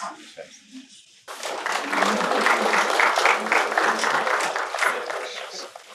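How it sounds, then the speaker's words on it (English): After a short stretch of talk, an audience bursts into sustained applause at a gathering honoring top NEET PG 2025 rankers. The clapping is loud, dense and steady, and carries on to the end. "Can we keep the applause going without stopping"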